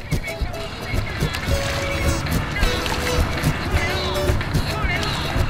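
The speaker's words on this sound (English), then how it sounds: "Paddling down the French Broad." Stand-up paddleboard paddling down the French Broad River near Asheville, North Carolina, steady water splashes and paddle strokes close by with wind noise and people talking over them.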